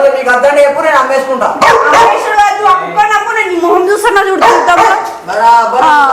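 A dog yips and barks close by, mixed with whining cries, while a person talks over it throughout.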